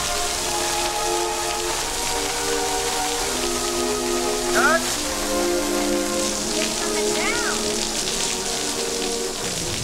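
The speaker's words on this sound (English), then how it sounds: "Make it rain, please." Artificial rain pours steadily on a film set during a night shoot for a 1998 thriller remake, a dense continuous hiss with low background hum and musical tones throughout.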